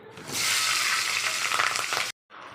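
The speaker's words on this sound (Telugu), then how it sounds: "ఇప్పుడు పచ్చిమిర్చి వేసుకోవాలి" Green chillies drop into hot oil after ginger, bursting into a loud, close sizzle that holds steady for a couple of seconds before cutting off abruptly and resuming.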